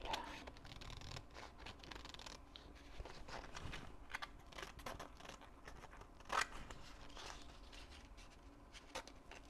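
Scissors snip through a strip of paper up close, with faint scattered cuts and rustling handling at low volume.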